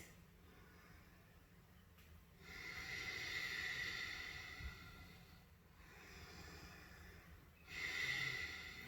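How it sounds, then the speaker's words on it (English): Slow, deep breaths with a hissing, wave-like rush on each inhale and exhale, close and soft, repeating in a steady rhythm. "Think of the ocean as you hear yourself breathing."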